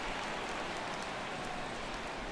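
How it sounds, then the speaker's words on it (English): Rain falls during a baseball game in the MLB The Show video game, a steady soft broadband patter that stays even and faint throughout with no voices. "Rain continues to fall here in the 6th."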